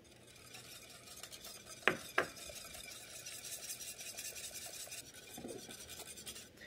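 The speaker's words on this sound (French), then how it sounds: "Je rajoute donc ma gélatine à ce stade et je remue rapidement pour bien la dissoudre" Gelatin being stirred quickly into cream, a soft continuous scraping swirl of a utensil in a pot, with two sharp clinks near the start, fairly quiet and without talk.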